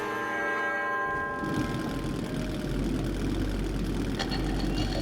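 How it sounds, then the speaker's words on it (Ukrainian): The engine of a draisine in Metro 2033 Redux starts up and settles into a steady, loud low rumble that continues alone. "Гей ви на дрезині! Глушіть двигуна!"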